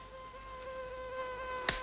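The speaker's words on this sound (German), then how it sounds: "Schon wieder eine Mücke." A mosquito whines with a thin, steady buzz close by in a quiet room, wavering slightly in pitch, with a brief click near the end.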